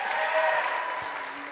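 Church service audience applauding a welcomed guest, a steady wash of clapping and cheering that holds for the whole moment before easing slightly.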